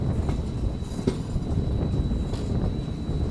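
A passenger train on the Bengaluru to Hosapete route rumbles steadily as it rounds a curve, with a continuous low roar of wheels on rail and faint clacks, heard from on board.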